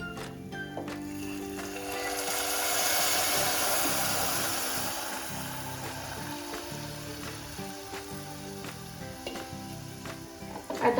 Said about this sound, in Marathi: आता ड्रायफ्रुट्स अगदी व्यवस्थित भाजले की आपण त्यामध्ये दूध टाकून द्यायचंय।